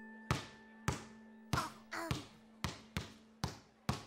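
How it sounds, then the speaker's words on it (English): A ball bounces on a hard surface with eight sharp, evenly spaced thuds, each ringing briefly, over a steady tonal hum in a children's circus show setting. "That's somebody bouncing a ball."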